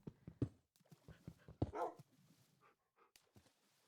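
Dog barks from Minecraft come in a quick run of short yaps and woofs at moderate loudness, with a brief whimpering yip near the middle, then trail off into a few fainter barks.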